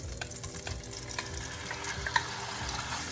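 Chicken being added to melted fat in a hot pan sizzles and fries steadily, with a few soft scrapes and clinks of stirring, heard close and without talk.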